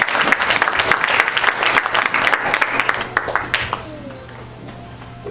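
A church congregation at Salem Baptist Church applauds an evangelist. The clapping is loud and dense for about four seconds, then fades out into a quiet room hum, with a voice speaking briefly underneath.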